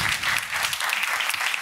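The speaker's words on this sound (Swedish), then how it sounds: "En applåd till då, tycker jag." Seminar audience applauding, a short, dense burst of clapping heard close and alone.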